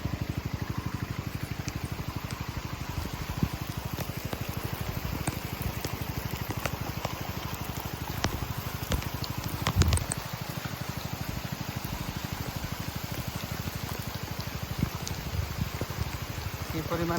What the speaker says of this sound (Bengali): বৃষ্টিও হচ্ছে, মেশিনও চলতেছে